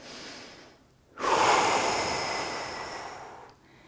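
A single long, deep breath during a yoga stretch in an isometric workout, drawn in close to the microphone as a loud airy rush lasting over two seconds, then stopping, with a quieter breath before it.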